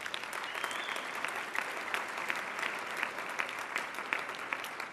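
Steady, dense applause from a crowd at a bar association installation ceremony, continuous and even throughout at a moderate, slightly distant level.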